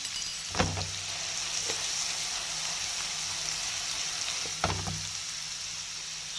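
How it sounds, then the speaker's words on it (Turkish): Chickpeas with chili powder, curry and black pepper fry in a pan with a steady, close sizzle, and a few sharp scraping clacks of stirring break through it. "Şöyle nohutlarımızı karıştırıyoruz güzel bir şekilde."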